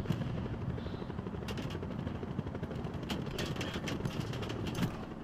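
A helicopter in the Call of Duty video game thrums with a steady rapid rotor chop and engine drone throughout, with faint bursts of gunfire crackling in the background.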